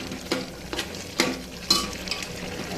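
Vegetables being stirred in a pan with a spice tempering, a spoon scraping and clinking in a few distinct strokes over a soft, steady sizzle.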